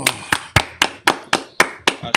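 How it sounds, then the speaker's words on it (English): Steady, evenly spaced hand claps from a Sabbath service congregation, about nine sharp beats at a brisk rhythm, close and distinct, with faint voices underneath. "Let's clap it up for the Most High."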